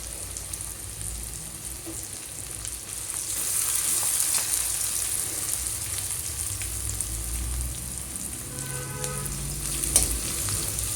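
Garlic paste, ginger paste and green chili sizzle steadily in a hot pan for chana masala, a continuous bright frying hiss that swells slightly midway, with occasional stirring scrapes and no voices.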